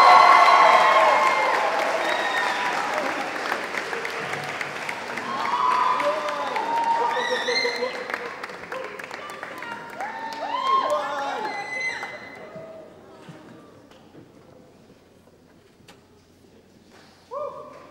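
A school awards crowd claps and cheers loudly for several seconds, the applause swelling and then gradually fading to a few scattered claps, with children's voices mixed in.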